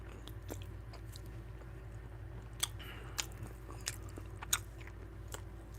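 Quiet close-up chewing of a bacon tortilla with cheese and Italian seasoning, soft repeated bites and wet mastication with a few sharper crunchy clicks, no talking.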